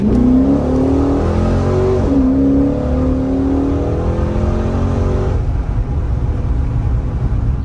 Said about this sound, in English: And a little first gear pull.